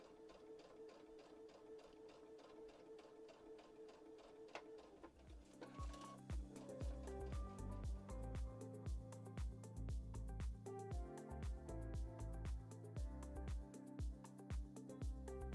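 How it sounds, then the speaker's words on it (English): A sewing machine stitches a seam for a Hong Kong finish on a quilt coat, starting after a few quiet seconds and then running in a fast, steady mechanical rhythm, close and faint overall. "I'm just going to sew right inside the seam."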